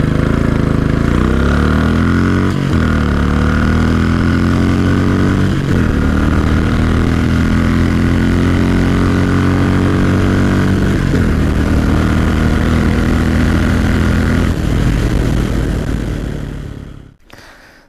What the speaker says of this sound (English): let's do a quick acceleration test of the Classic 500, and first gear, let's launch it.